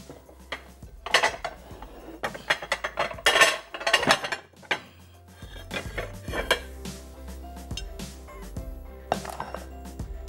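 Dal being dished into a serving dish in a kitchen, with metal utensils and pots clinking and scraping in irregular bursts, close and clear, quieter scraping toward the end, no talk.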